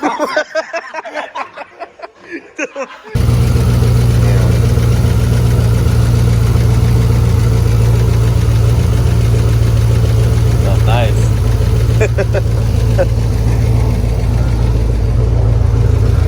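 A Chevy SS V8 fitted with a new cam and LS7-type lifters fires on first startup and settles into a loud, lumpy, steady idle close by, after a short stretch of talk and clatter; a voice speaks briefly before it starts.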